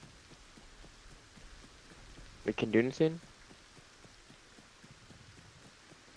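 Rain falls in a Lego video game as a soft, steady patter that runs throughout, with a person briefly speaking over it partway through.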